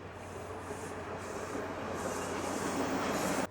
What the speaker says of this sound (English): Okay, here comes line 2 out of Kipling.